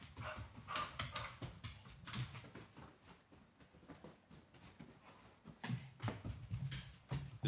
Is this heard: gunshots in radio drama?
no